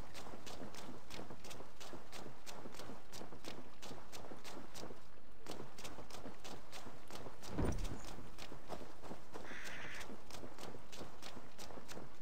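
Horse hooves in the video game Assassin's Creed Valhalla, a steady, even clip-clop of a walking horse continuing for twelve seconds, moderately close, with a brief heavier thud partway through and no talking.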